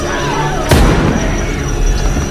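A single sharp gunshot bursts out in a tense film scene, loud and close, with a booming tail that decays over a second under a steady background of music and ambience.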